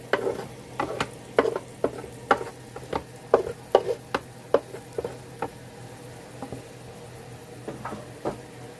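Steaks fry in a greaseless pan, with a soft background sizzle punctuated by a string of sharp pops and ticks at irregular intervals, close by.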